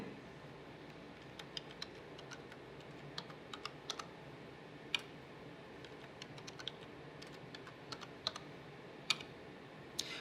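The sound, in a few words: typing a password on a computer keyboard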